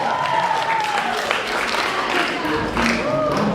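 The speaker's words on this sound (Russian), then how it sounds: "Давайте аплодисменты." Audience applause fills a hall at a university beauty pageant grand final, steady broadband clapping sustained throughout with a voice faintly audible beneath it.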